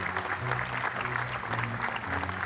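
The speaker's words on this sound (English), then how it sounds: "Let's give a big round of applause to the refs, the volunteers, the rakers, everybody that it takes to make this happen" Crowd applause for referees and volunteers at a beach volleyball tournament's awards, a steady moderate patter of clapping lasting a couple of seconds, slightly distant.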